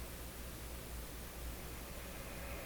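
A Goplana tube radio warming up gives off a faint steady hiss of static, with no other sound.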